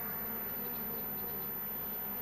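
Honey bees swarming around a hive box during a honey harvest from nucleus colonies, a dense, steady buzzing hum of many insects close by with no voices.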